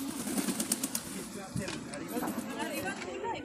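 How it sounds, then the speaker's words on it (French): Pigeons coo and flap their wings close by, a flock crowding the spot, with soft murmuring calls and brief wing bursts over a steady background and some talking. "Envahi par une horde de pigeons."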